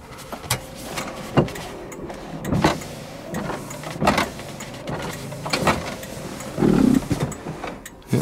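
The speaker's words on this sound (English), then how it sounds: "Wipers work as well." Windshield wipers running on a 1968 Oldsmobile Cutlass S with a brand new switch, a steady motor whir with repeating rhythmic sweeps about every second, close up inside the car, then parking, with no talk.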